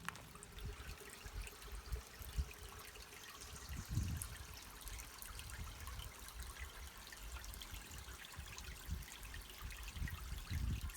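Creek water rushes steadily through a fish ladder on a rainbow trout spawning stream. It is a close, continuous trickling wash with a few soft low thumps underneath.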